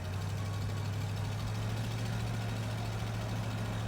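A 1966 Ford Mustang with a 289 V8 running at minimal throttle gives a steady, low, even engine drone with no change in pitch.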